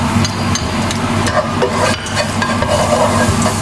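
Garlic sautéing in oil for lumpiang togue, a steady close sizzle and crackle with scraping stirring strokes throughout, no talking.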